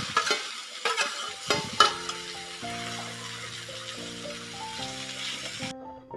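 Cooked lentils and greens for Mandya-style upsaaru stirred together in a pan, a few sharp scrapes and wet stirring sounds at the start, then sustained musical tones take over with little stirring audible.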